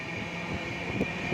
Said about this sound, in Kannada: ನಮ್ಮ ಟ್ರೈನ್ ಇವಾಗ ಗೊಲ್ಲಲ್ಲಿ ರೈಲ್ವೆ ಸ್ಟೇಷನ್ನ ಸ್ಕಿಪ್ ಮಾಡ್ತಾ ಇದೆ.